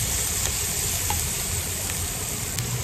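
Onions sautéing in a little oil in a pan for chicken curry, a continuous close hissing sizzle with faint stirring scrapes underneath, steady and moderately loud.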